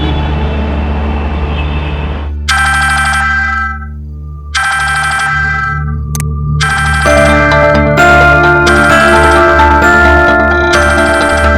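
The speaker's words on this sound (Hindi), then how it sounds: "सोना इतनी रात को फोन क्यों कर रही है?" A loud electronic phone ringtone plays in repeated melodic bursts with short gaps between them, over a low steady hum.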